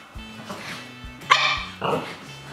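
A wet dog fresh from a bath barks several times indoors, loud and close, with short yips and scrabbling movement between the barks as it runs around.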